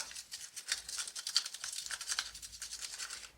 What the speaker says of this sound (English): Okay, let's fold these up. Okay, so I've written down 3, we'll shuffle them all up,